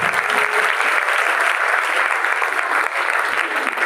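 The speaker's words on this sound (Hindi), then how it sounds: "जोरदार तालियां।" Loud, dense applause from an audience at a youth group gathering, a steady wash of many hands clapping without pause throughout and no speech over it.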